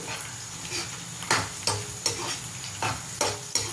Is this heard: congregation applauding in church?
no